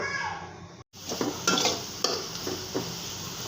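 Panch phoron spices sizzling in hot oil for a fig (dumur) dal, with a steady close crackle broken by several louder bursts of sizzle as a utensil stirs the pan.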